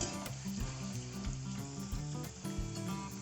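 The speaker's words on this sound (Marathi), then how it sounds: "कढीपत्ता घ्यायचा आवडीनुसार गॅस बारीक ठेवून परतून घ्यायचं" Curry leaves frying in hot oil in a pan on low heat while making Kolhapuri bhadang chivda, a steady close crackling sizzle with rhythmic stirring scrapes, no talking.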